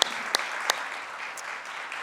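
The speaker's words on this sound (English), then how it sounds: "I would love to give Allstate a big round of applause" Conference audience applauding at a summit in Los Angeles, a fairly faint wash of clapping with a few sharper claps standing out near the start, brief and fading.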